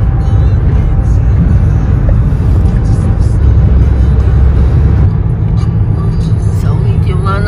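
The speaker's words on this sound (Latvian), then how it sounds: "Un pretī brauc mašīna." A car on a road drives toward the camera, heard as a loud steady road and engine roar with wind. A voice speaks over the passing vehicle noise.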